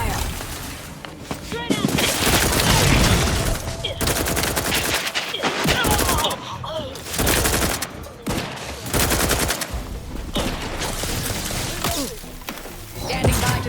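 Bursts of automatic gunfire in the video game The Outer Worlds 2, loud and repeated in clustered volleys with short gaps, mixed with game sounds and voices talking.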